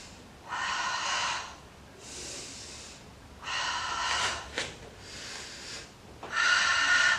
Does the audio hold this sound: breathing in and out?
yes